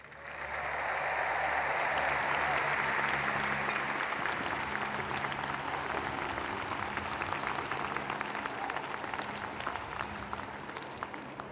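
Crowd at the Stanford Class of 2022 commencement ceremony applauding, a broad sustained wash of clapping that swells in quickly and holds steady, distant and diffuse in a large outdoor space.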